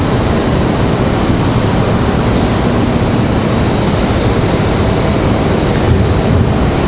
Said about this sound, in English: E175LR arriving from Nashville, Tennessee.